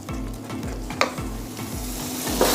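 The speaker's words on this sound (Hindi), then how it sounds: "लगातार मैं इसे चलाती रहूँगी तेज आंच पे।" Carrot halwa fries in ghee over a high flame while a spoon stirs it in rhythmic scraping strokes over a constant loud sizzle.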